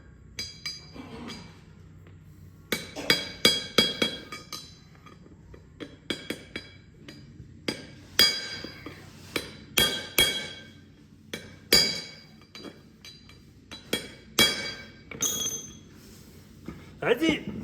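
A hammer taps parts into a 1948 Diamond T 509 rat rod truck, with sharp metallic clinks in irregular clusters, some close and loud, as a person talks between strikes.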